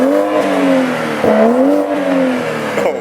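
Close and loud, a BMW M235i fitted with a de-cat downpipe revs repeatedly, its exhaust note rising and falling in several throttle blips inside a shop.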